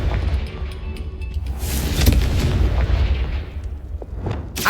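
A Confringo blasting spell in Hogwarts Legacy goes off as a loud, booming burst with a sustained rumbling roar, a sharp crackling pop near the end.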